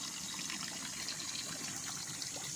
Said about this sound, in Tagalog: titingnan nyo po yung mismong tubig nandyan sa nanggagaling sa lupa oh. Maagos po siya.